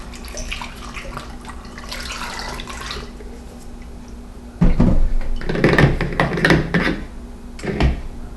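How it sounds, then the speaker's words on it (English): Apple juice poured through a funnel to rinse it while making homebrew apple wine, a steady close liquid splashing and gurgling that grows louder and fuller partway through. "I'm just going to rinse this funnel with a little bit more"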